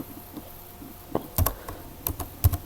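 Keys clatter on a computer keyboard while text is typed into a blank Google Sheets spreadsheet, a few scattered close clicks and short bursts separated by pauses.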